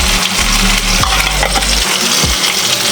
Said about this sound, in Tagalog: Nagpiprito pala ako ng additional na ulam namin